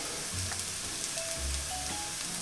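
Thinly sliced vegetables frying in a pan for a Spanish tortilla, giving a steady, soft broadband sizzle with faint stirring clinks, close by and with no talk.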